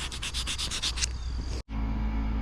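Rhythmic sanding strokes on a curb-rashed wheel rim edge rub back and forth about eight times, then a steadier grinding hiss with a brief cut-out before it resumes, close up.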